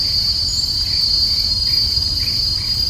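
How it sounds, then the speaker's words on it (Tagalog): Steady, loud cricket chirping fills the mountain air, a continuous high trill with no voices, close and constant throughout. "di ba narinig niyo kuliglig? Kuliglig lang maririnig niyo dito."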